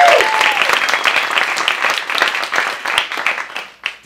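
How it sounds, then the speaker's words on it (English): A crowd claps loudly and steadily at an improv comedy show at a festival, a dense close wash of applause that thins slightly toward the end. "Give a round of applause."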